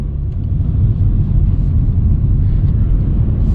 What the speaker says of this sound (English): But even now, I can hear the diesel engine. It's purring a little bit